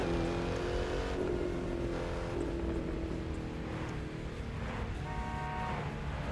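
A 600-horsepower car in The Crew 2 racing game accelerates with a steady engine drone, loud and close, with its pitch rising and easing as the throttle changes; no one talks over it.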